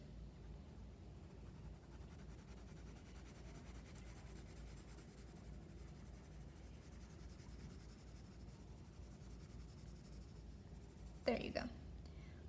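A pencil shades a smooth value gradient on paper with a soft, continuous, close scratching that stays faint and even throughout. A brief louder bump comes near the end.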